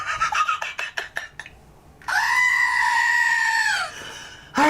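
A squeezed toy goat lets out a loud, nasal, sustained bleat after a run of short squeaky rasps, then a brief squeak at the end.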